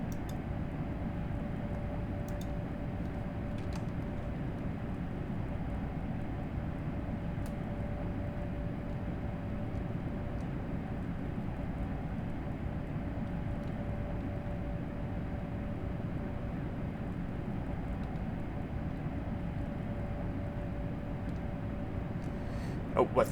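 An ICE 1 high-speed train in Train Sim World 3, driven at maximum throttle on the Kassel–Würzburg high-speed line, gives a steady low rumbling drone with a faint sustained whine, continuous and unchanging in level throughout.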